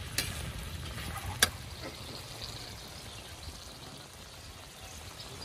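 Tofu (tokwa) frying in hot oil as a side dish, a steady, faint sizzling hiss broken by a couple of sharp pops early on.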